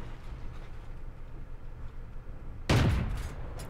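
A single heavy cannon blast from a KV-220 tank in World of Tanks bursts out after a stretch of quiet engine rumble, then rolls off into a decaying boom.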